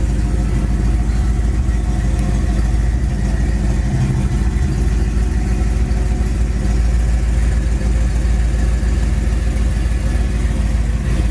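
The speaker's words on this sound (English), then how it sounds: "Dual exhaust system sounds real good." Engine of a 1964 Chevrolet Impala Super Sport idling through a dual exhaust, a steady low rumble holding at an even level throughout with no talk over it.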